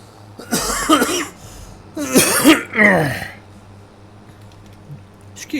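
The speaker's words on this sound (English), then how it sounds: "I'm turning right away from it when I feel a need to cough." A man coughs and clears his throat a few times in quick bursts, close to the microphone, over a faint steady hum from a silage-cutting setting.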